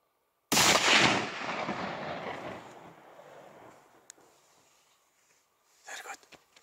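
A single loud rifle shot cracks out during a foggy November chamois hunt in the mountains, its boom rolling away in a long echoing tail that fades over several seconds before faint rustling sounds.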